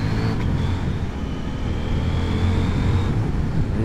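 A motorcycle on a test ride braking hard, heard as a continuous loud engine and road rumble close by, with a faint rising whine over it and no talking.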